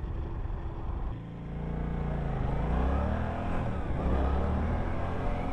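A Suzuki GSX-8S motorcycle engine idles and blips close by, a deep continuous rumble with rising revs, loud and steady with no voices.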